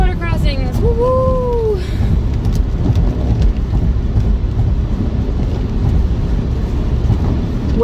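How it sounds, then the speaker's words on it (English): Heavy rain falls with thunder while a vehicle drives in Maine. A dense, loud rushing wash of rain continues throughout under low rumbling, with a brief rising whine near the start. "so far, we're still dealing with rain, not snow"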